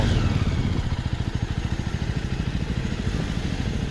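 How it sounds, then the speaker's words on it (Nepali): A Jawa 42 motorcycle rides slowly along a mountain road between Darjeeling and Kalimpong, its engine giving a steady, fast low putter with a rhythmic pulse and dense wind rush. "म चाहिँ बाइक राइड गर्दा चाहिँ अलिकति बिस्तारै नै चलाउँछु"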